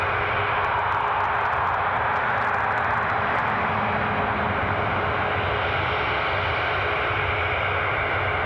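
An airplane takes off at Newcastle International Airport, its engine roar loud, close and steady for the whole stretch with no voices over it.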